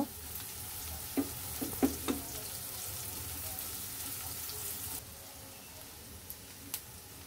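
Chopped garlic and onion fry in soybean oil in a pan, a steady soft sizzle with a few clinks of stirring near the start; the sizzle drops away partway through.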